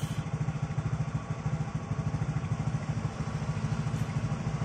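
Motorcycle engine idling smoothly after a major service, a close, even rapid putter with a steady rhythm and no stalling.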